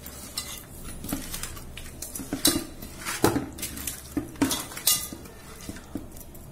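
Mustard, ginger and garlic paste is stirred in a metal pot for a fish curry, with repeated clinks and scrapes of a spoon against the pot and a faint sizzle underneath, close up with no talking.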